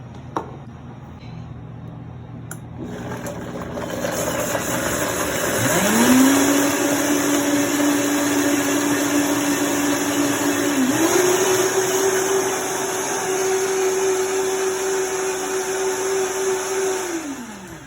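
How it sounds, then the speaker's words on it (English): A blender purees roasted red pepper sauce, its motor ramping up to a steady high whine, stepping up in speed midway, then winding down at the end; loud and close, with no talking. "And then we're gonna go ahead and puree this all together"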